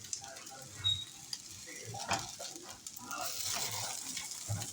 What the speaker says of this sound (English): Oh, can you hear him sizzle? I think you can. I love that sound. That's fried food sound.